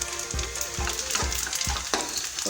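Cumin seeds and onions frying in a pan with bay leaves: a continuous bright sizzle, close up, broken by several soft thuds and clicks from stirring.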